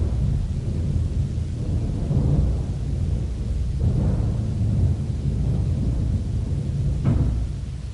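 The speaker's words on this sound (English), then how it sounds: "audiences in the next century will get a chance to hear a real old-fashioned thunderstorm" An old-fashioned theater thunder roll at historic Thalian Hall rumbles continuously, a deep rolling boom that swells and fades in waves, loud and echoing through an empty auditorium.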